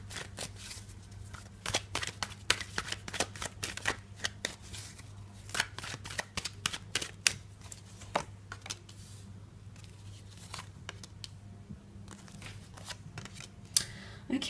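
A deck of tarot cards is shuffled close by in a quiet room, making a steady run of soft, rapid riffling slaps and flicks that keeps going for a long stretch, with a low hum beneath and no talking.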